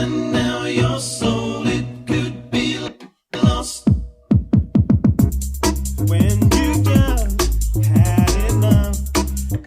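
Old-school UK garage track plays loud, with a deep bassline, crisp beats and vocal stabs, broken by a brief dropout and choppy stuttering cuts before the full groove returns.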